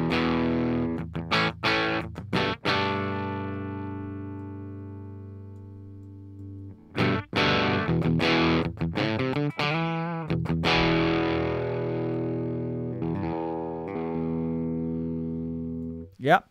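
Electric guitar played through the PolyChrome DSP McRocklin Suite amp plugin at low gain: a few quick strummed chords, then long ringing sustained chords and picked notes that decay slowly between fresh attacks, with no talking.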